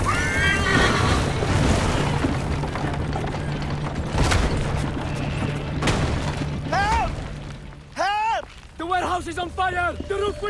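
A horse whinnies several times in Assassin's Creed 3 Liberation, the loud rising-falling neighs coming late, over a dense din of crashing debris, fire and panicked shouting voices.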